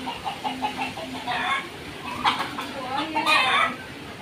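Chicken clucking in a home garden: a short run of soft repeated clucks near the start, then brief louder calls, with faint background noise throughout.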